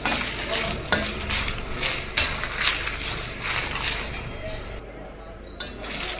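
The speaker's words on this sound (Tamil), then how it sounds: "இந்த கோக்னட்ஸ் எல்லாம் தேங்காய் கொஞ்சம் கலர் மாறுற வரைக்கும் நீங்கள் இதை ஃப்ரை பண்ணணும்." Grated coconut for podi powder stirs and sizzles in a pan with a low, steady frying hiss, punctuated by several sharp clinks of a metal spoon against the pan. A person talks over the cooking.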